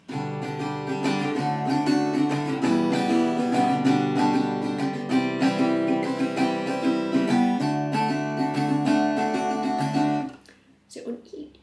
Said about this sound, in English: So let's talk about a strumming pattern for how this bit should sound.